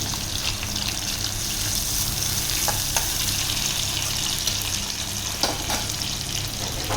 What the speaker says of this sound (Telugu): ఇప్పుడు ఆనియన్ అనమాట, కట్ చేసుకున్న ఆనియన్ వేసుకోవాలి.